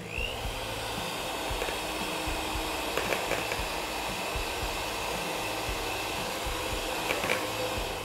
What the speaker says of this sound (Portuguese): aquele chocolate que eu havia banhado os pés de moleque, vai para a nossa batedeira, para o nosso recipiente.